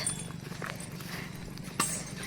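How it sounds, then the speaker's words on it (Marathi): Cows walk along a road lined with eucalyptus trees, their hooves giving faint, scattered clops against a quiet outdoor background. "गायी आलेल्या आहेत"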